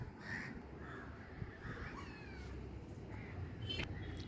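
Crows cawing outdoors in the evening, a handful of short harsh calls at moderate distance over a steady low background of ambient noise, with no speech.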